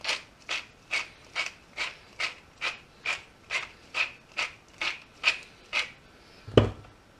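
A pepper and salt grinder turned over beef, a dry rasping crunch repeated about fifteen times in a quick, even rhythm, close and alone, with a soft knock at the end.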